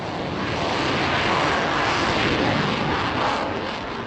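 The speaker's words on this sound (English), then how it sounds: "Cheli flaunts the plane's maneuverability to the onlookers at this year's Paris Air Show" A Eurofighter combat jet roars overhead during a flying display at the Paris Air Show, a loud, dense and steady engine rumble that fills the whole stretch with no voices.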